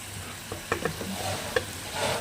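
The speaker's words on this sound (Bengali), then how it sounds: "এই যখন জল দিয়ে দিয়েছি জলটা ফুটছে এবার মাছগুলো দিয়ে দেবো" Koi fish go into bubbling liquid in a pan for tel koi, a steady close sizzle and bubbling with a few sharp splashes and knocks as the pieces drop in.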